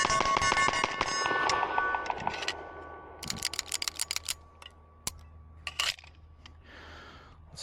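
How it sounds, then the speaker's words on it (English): An MPA DS9 pistol fires a rapid string of shots, sharp repeated cracks in quick succession, after a shot timer's beep, with a dense echoing burst at first and then spaced reports. "I just wanna see this gun go fast, so we're gonna start the timer."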